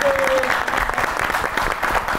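A studio audience at a comedy talk show claps steadily for a singer's song, a dense, continuous round of applause with a few louder individual claps standing out.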